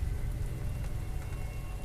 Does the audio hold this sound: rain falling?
yes